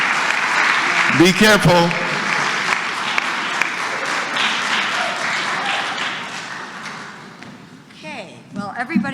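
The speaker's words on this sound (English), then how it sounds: "Let's give him a big round of applause." An audience at a conference on STEM teachers applauds loudly and continuously for several seconds, the clapping fading out before a voice speaks near the end.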